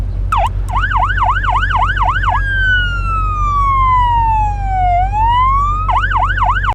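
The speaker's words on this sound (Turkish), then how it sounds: "Üçüncü maddemiz sirenlerin sesi değişmiş arkadaşlar." A police siren in the mobile game Car Parking Multiplayer plays loudly and alone, first in a quick repeating yelp, then a long slow wail that sweeps down and back up, then the fast yelp again.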